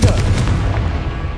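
A single Incendio fire spell in Hogwarts Legacy erupts with a loud, booming whoosh that decays quickly over about a second.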